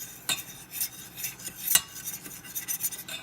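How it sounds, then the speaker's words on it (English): A utensil stirs butter and honey together in a pan with rapid, scraping, rubbing strokes and a few sharper clinks, close and fairly quiet with no talking. "We really want the butter and the honey to be all completely mixed together."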